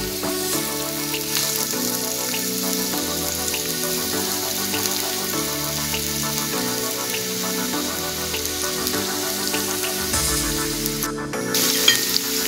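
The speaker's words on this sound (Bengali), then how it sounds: "তো প্রথমে আমি রান্নার তেলটার মধ্যে পেঁয়াজগুলো" Onions fry in hot cooking oil with a steady, close, continuous sizzle and crackle, carried over a constant tonal background throughout.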